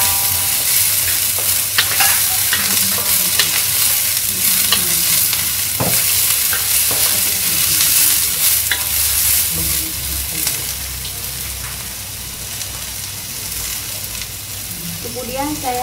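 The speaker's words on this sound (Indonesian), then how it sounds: "di sini saya akan tumis bawang bombaynya dulu ya" Onions sautéing in a frying pan, a loud continuous sizzle with occasional stirring scrapes, close and steady throughout, no talking over it.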